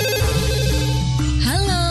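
A telephone rings at a radio station taking a call-in listener, a loud, steady electronic warble repeating without pause and heard alone, close to the microphone.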